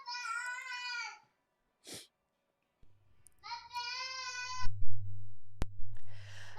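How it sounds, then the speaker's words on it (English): A child cries and screams in the background of a home livestream, with several loud, high, wavering bursts separated by pauses and a low hum beneath. "You can hear a child screaming in the background."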